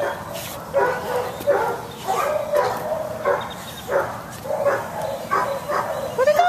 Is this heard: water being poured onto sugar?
no